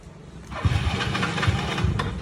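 An engine being cranked after a cheap battery is fitted, a loud close churning turnover that starts abruptly and runs on without catching.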